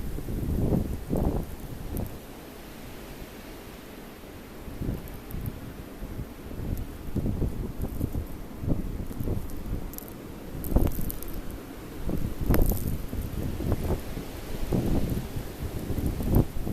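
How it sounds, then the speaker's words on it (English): Strong blizzard wind gusts of 40 to 50 miles an hour buffet the microphone in irregular surges, with rough low rumbling bursts rising and falling, no voices present. "The winds are gusting up to 40, 50 miles an hour."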